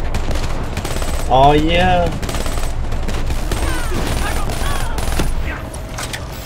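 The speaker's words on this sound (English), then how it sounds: "Just equipped rapid fire on my dredge 48. This thing's beastin'." Rapid-fire Dredge 48 shooting in Call of Duty Black Ops 3, a dense stream of gunfire running steadily through the whole stretch, with voices talking over it.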